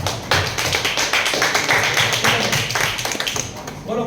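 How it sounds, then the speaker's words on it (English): Students in a classroom clap for a classmate after her answer, a burst of brisk, close hand claps with some thumps, with voices murmuring over the top. "Can we clap for her?"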